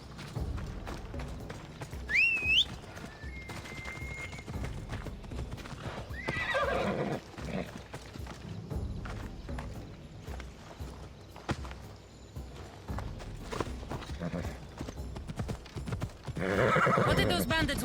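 A horse in Assassin's Creed Odyssey whinnies loudly near the start, then its hooves clip-clop and gallop steadily through the rest, mixed with game ambience and a second louder burst of hoofbeats at the end.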